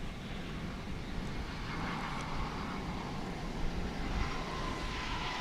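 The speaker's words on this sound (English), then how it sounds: "Looks like an A319 to me." A United Airbus A319 airliner at DFW International Airport gives a steady, broadband jet roar that holds at a fairly even level throughout, with no talk.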